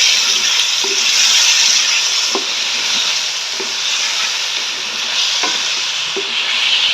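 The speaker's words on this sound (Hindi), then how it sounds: "उनको भी अच्छे से ऑयल में फ्राई कर लेंगे हम" About a kilo of potatoes fry in oil in a large pot, giving a loud, continuous hissing sizzle with occasional faint knocks of stirring.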